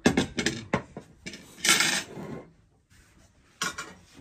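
Spoons and dishes clink in a kitchen where local chicken soup is being served during an early-morning chicken roast, with several sharp metallic taps and scrapes in quick clusters, then a pause and one more burst.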